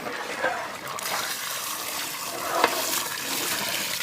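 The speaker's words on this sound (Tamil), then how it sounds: "கறி வேகிறதுக்கு தண்ணி" Water is poured into a pot to cook mutton biryani in an outdoor village kitchen, a soft continuous splashing and gushing that swells briefly partway through, heard fairly close and quiet.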